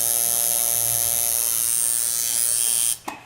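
Steady high-pitched buzzing hum of a tattoo machine running close up while hanging a line, continuing evenly before cutting off abruptly near the end with a brief click.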